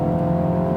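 A 2018 Mini Cooper Clubman S engine pulling at full throttle while cornering, heard from inside the car as a steady, loud drone with a low hum running throughout.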